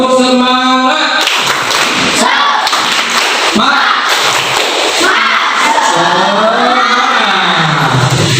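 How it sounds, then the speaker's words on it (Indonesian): Schoolchildren in an elementary classroom clap a rhythmic spirit-clapping routine together, loud and close, with bursts of claps punctuated by group chanting voices. "Mari kita sama-sama melakukan tepuk semangat."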